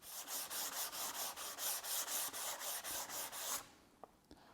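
Sandpaper rubs back and forth over primer on a thin fiberglass airframe tube, about a dozen even, rhythmic strokes up close that stop abruptly, followed by a couple of light taps.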